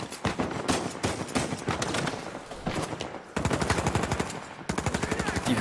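Automatic rifle fire in Uncharted 4 rattles in long, rapid bursts, close and loud, with a few brief pauses between strings of shots.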